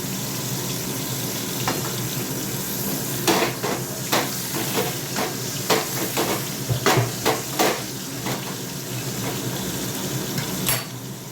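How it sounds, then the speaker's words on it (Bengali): Teasel gourd frying in a pan over low gas heat, a steady close sizzle broken by a run of sharper scraping and stirring clicks through the middle, no voices. "কাঁকরোল ভাজা হয়ে গেল আমার"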